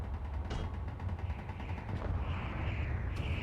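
Base turrets in Space Engineers firing at deployed fences, a rapid continuous rattle of shots with mechanical clanks and a couple of sharper bangs, loud and close throughout.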